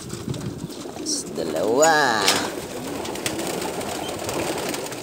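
Doves in rows of cages in Saudi Arabia give soft, rolling coos that swell in the middle, close and clear over a steady background murmur, while someone speaks a single word.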